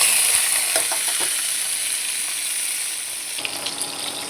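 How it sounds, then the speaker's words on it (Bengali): Onion, capsicum, tomato and green chili fry in white oil in a wok with a steady, loud sizzle and occasional soft stirring clicks, no voices. "চিংড়িটা রান্না করার জন্য একটু সাদা তেল দিয়েছি কড়াইতে, তারপরে এখানে পেঁয়াজ, ক্যাপসিকাম, টমেটো আর কাঁচা লঙ্কা একটু ভেজে"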